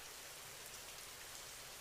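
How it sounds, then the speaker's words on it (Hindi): Heavy rain pours steadily in a Hindi cartoon story, a dense continuous hiss of falling water with no talk over it. "तेज बारिश होने लगती है"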